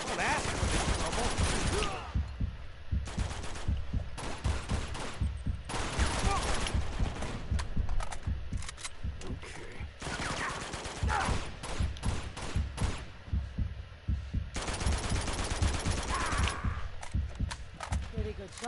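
Rapid bursts of video game gunfire from Uncharted 2, volleys repeating across the stretch, loud and close, mixed with in-game character dialogue.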